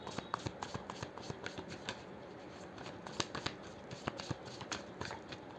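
Tarot cards are shuffled by hand close up, a soft, quiet run of rapid riffling snaps and slides with a few sharper flicks, repeating across the clip.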